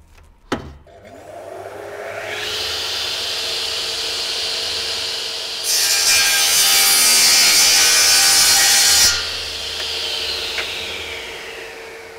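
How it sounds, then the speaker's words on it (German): A Metabo KGS 254 miter saw spins up and cuts a groove into a piece of wood, a loud steady whine with a harsher, brighter stretch of cutting in the middle before the blade winds down. "möchten wir eine Nut in das Holz reinsägen"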